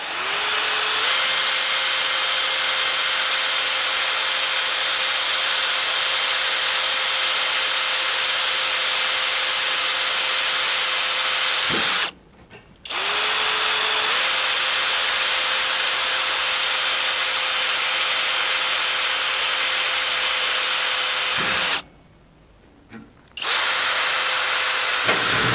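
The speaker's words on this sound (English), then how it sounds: "continue drilling it straight in now" A power drill runs loudly and steadily up close, drilling into a mini excavator's rear cover, with a high whine over a whirring grind, stopping briefly twice before starting again.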